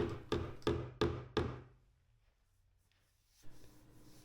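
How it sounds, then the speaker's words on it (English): Five firm, evenly spaced thuds of a rubber mallet striking an Audi's metal door panel, followed by a short quiet pause and a faint shuffle. "I used a rubber hammer so I didn't chip the paint on the inside door edge"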